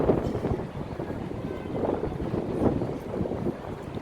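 Wind gusts across the microphone outdoors on the Champs-Élysées in Paris, a continuous rushing, buffeting noise at moderate level with no talking.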